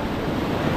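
Rough, loud surf roars with heavy wind buffeting the microphone, a dense continuous wash of ocean noise.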